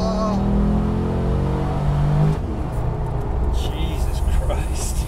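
A V8 Land Rover Defender 6x6 engine accelerating hard, a loud rising roar that drops into a lower rumble, with voices over it.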